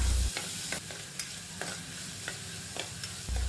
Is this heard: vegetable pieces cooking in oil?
yes